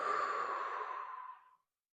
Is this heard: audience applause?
no